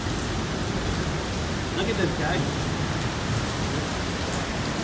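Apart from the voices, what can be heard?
rain and windy spray behind Niagara Falls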